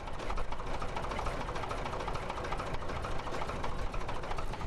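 A farm tractor engine runs steadily in a dense, continuous rattling drone with fine rapid pulsing and no pauses or voices.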